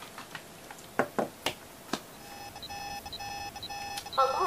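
Alarm beeping in a Red vs. Blue episode: steady repeated electronic tones over the last half, after a few sharp clicks and knocks at the start.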